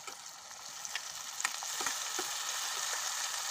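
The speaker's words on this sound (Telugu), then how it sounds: "ఆనియన్స్ బాగా మగ్గిపోయిన తర్వాత అందులో టమాటాలు వేసుకోండి" Tomatoes tipped into a pan of softened onions and green chillies for a spicy barbati curry, giving a steady broadband sizzle that grows a little louder partway through, with a few soft clicks of stirring and no voices.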